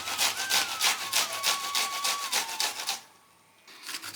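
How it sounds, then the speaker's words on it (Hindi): Cauliflower grated by hand for gobhi paratha in a village kitchen, a steady run of rhythmic rasping strokes up close, about ten in quick succession, then a brief pause before the scraping starts again. "अब गोभी के यही के सहारे एक तरह का घिस देते हैं यही तरह रगड़ रगड़ के कुल गोभी घिस देवा"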